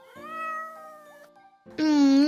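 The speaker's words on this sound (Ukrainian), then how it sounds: "звідки не візьмись, на мородях з'явився він, рудий кіт Левко" A ginger cat in an audio fairy tale for children gives two meows. The first is a long, moderate meow. After a short pause comes a louder, higher, drawn-out meow.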